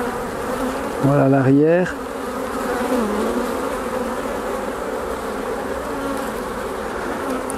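Honeybees buzz steadily and close throughout a transfer from a nucleus box into a full hive, a dense insect drone that briefly rises in pitch and loudness near the start.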